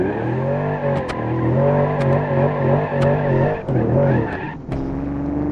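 A car in the driving game BeamNG.drive running on a nitrous boost, a steady loud engine drone with revving swells and short skidding chirps, close and continuous with no talk.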